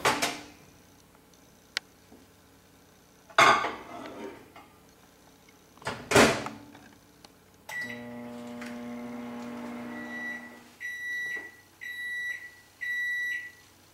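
Clattering clunks of a microwave door, then a steady hum of the oven running while heating curds for homemade mozzarella, punctuated by repeated electronic beeps near the end.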